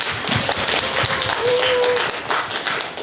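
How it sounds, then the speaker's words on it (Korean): Warm applause from a crowd at a Korean youth social cooperative's fundraising event fills the room steadily, with a voice briefly audible amid the clapping. "뜨거운 박수 감사드립니다"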